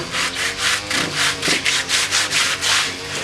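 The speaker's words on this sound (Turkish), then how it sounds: "Şöyle zımparalıyoruz arkadaşlar." Steady, rhythmic hand sanding on wood, about a dozen brisk back-and-forth rasping strokes, close and loud, with no talking.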